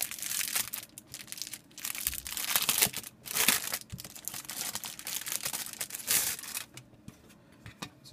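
A plastic bag crinkles and rustles steadily at close range while phone cases are pulled out of it, with bursts of crackling and brief pauses throughout.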